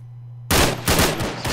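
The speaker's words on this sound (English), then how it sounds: "He's shooting at me." Burst of gunfire in the Arma 3 video game: near-silence breaks into loud, rapid overlapping shots and echoing reports that continue through the rest of the moment, with no talk.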